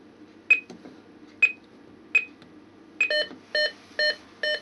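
Keypad of an Optima XM burglar alarm system beeping as it is set: three single short beeps at even intervals, then four longer, harmonically rich tones in steady rhythm, close and clear over a quiet room.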